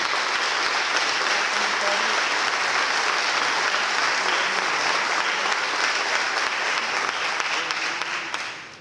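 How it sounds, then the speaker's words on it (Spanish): Sustained applause from a sizable audience, steady and dense throughout, fading slightly at the very end. "Les rogaríamos un aplauso para don Ricardo."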